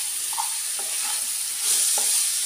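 Radish frying in a pan with salt and chopped green chillies, a steady broad sizzle with a few soft stirring scrapes, close and alone with no talking.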